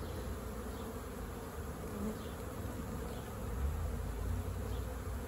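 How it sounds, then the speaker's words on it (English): A swarm of bees being caught hums in a steady, dense drone, fairly soft and continuous, with the buzz swelling slightly toward the end. "And you have quite a few bees on you."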